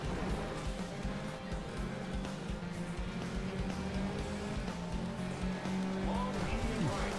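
A Citroen car drives in a video game, with a continuous engine drone and tire noise, a brief squeal near the end, and speech layered over it.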